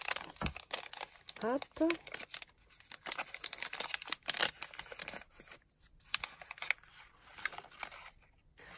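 Mail package being cut open with scissors, giving crisp snips, rustling and crinkling of packaging at close range, with brief talk mixed in.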